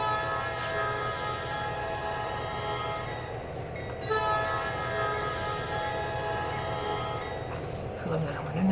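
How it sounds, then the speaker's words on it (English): A diesel locomotive horn in the Trainz 2022 train simulator blows in a long, sustained, chord-like blast over steady rail rumble, with a brief dip midway before it resumes. "it's going to honk this horn"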